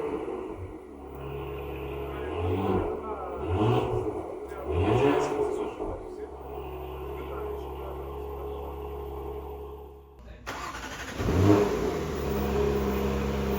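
A 2024 Porsche Macan GTS starting up and revving, its engine rising and falling in several loud swells before settling into a steady idle, then a sudden louder burst near the end.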